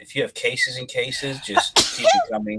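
A single sharp sneeze bursts out near the end of a man's ongoing speech, loud and close, with talking before and after it.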